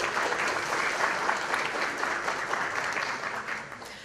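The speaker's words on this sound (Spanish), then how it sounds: "para quien solicito un fuerte aplauso" Sustained audience applause at a formal trade-agreements forum in Ecuador, welcoming a government delegate, steady and dense for about four seconds before tapering off slightly at the end.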